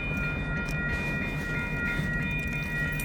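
A freight train backs slowly across a road railroad crossing at night, giving a steady continuous rumble of rolling cars with a sustained tonal hum, loud and close, with no talking.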